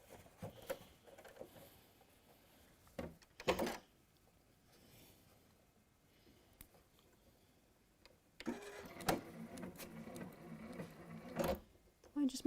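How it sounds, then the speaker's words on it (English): A sewing machine stitches through slippery quilt layers in short, fairly quiet bursts, mostly toward the end, with a person talking between and over the runs. "we will stitch up to where we first held it in place"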